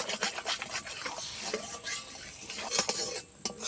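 A spoon scrapes and knocks around a pan as milk mixed with powdered milk is stirred continuously to thicken it, with a steady run of close, irregular scraping strokes and no voices.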